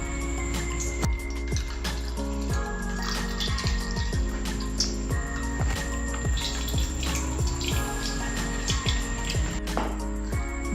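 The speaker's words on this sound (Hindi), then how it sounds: "ग्राइंड किए हुए प्याज़ों को हम इस तरह स्टेन करेंगे। स्टेन करके इनका पानी निकालेंगे।" Ground onion paste is strained to draw out its juice, giving a continuous wet trickling and splashing of liquid, close and fairly loud, with scattered clinks and drips and no talking.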